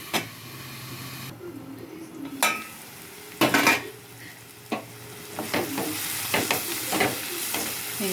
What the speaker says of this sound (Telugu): ఈ ములక్కాయ కూడా నూనెలో బాగా ఉడుకుతుంది. ఉల్లిపాయతో పాటు ఉడికిపోతుంది.